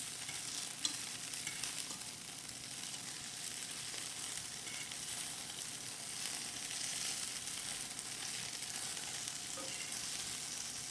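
Homemade potato gnocchi fry and brown in a hot pan, giving a steady, even sizzle that hisses quietly and continuously with faint stirring and no voices.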